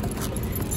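Keys jangle close by as they drop into a handmade leather handbag from a Naples workshop, a short metallic rattle over a dense low rumble, with no voices.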